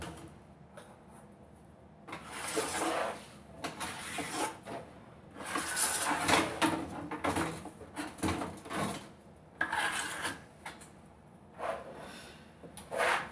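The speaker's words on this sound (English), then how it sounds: "Scrape the grooves, brush with metal, then nylon, then a quick polish, and they are done." A ski base is scrubbed with metal and then nylon brushes, a series of irregular rasping strokes in bursts, near and moderately quiet, with no talking.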